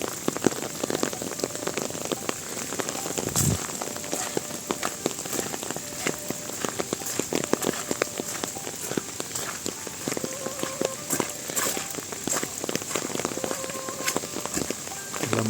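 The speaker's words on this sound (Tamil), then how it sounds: "மழைக்கு ஒதுங்கி இருக்கிறாங்க." Rain falls steadily in the Arashiyama bamboo forest in Kyoto, a dense patter of drops hitting nearby surfaces with crisp close splashes throughout, no talking.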